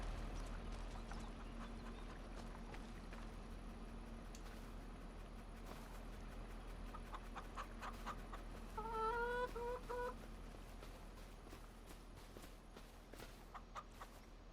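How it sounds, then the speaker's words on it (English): Soft clucking from a few chickens over a constant low hum, with a brief higher squawk partway through and light scattered taps. "Good looking chickens."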